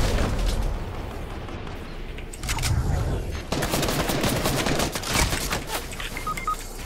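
Rapid bursts of gunfire in Fortnite, loud cracks and shots firing in clusters with a few pauses, spread steadily across the moment.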